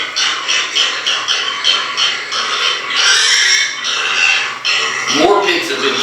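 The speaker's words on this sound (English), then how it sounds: "So it's pig noises." Recorded pig squeals played as a hog hunting call: a run of loud, shrill, wavering squeals in quick bursts, then a longer sustained squeal near the end.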